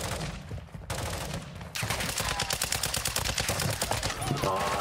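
Rapid bursts of automatic gunfire crackle loudly through a Call of Duty Modern Warfare II DMZ match, with a brief lull before heavy sustained firing resumes to the end; a voice speaks briefly.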